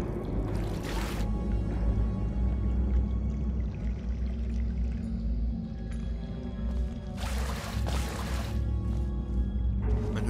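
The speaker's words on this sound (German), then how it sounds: "Man hört sogar das Plätschern." Gentle water sloshing and splashing in the video game Portal 2, over a steady low rumble, with a couple of brighter bursts of splashing; no one speaks.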